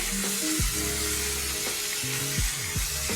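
Spices sizzle and fry in a pan for potoler dorma, a steady close hiss with scraping stirring strokes and occasional clinks of a utensil against the pan.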